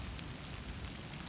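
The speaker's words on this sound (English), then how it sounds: "And it's pouring rain right now." Pouring rain outdoors in northern Ohio patters in a soft, steady, even hiss of drops, faint and continuous with no voices.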